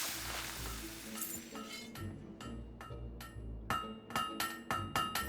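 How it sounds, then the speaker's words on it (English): Forge hammering on a sword blade in the video game Fable III: bright metallic clanks ring out at irregular intervals over a low rumbling workshop background, growing louder and quicker in the final seconds. "Great hammer work there."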